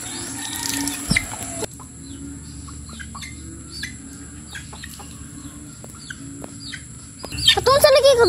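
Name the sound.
chicken clucking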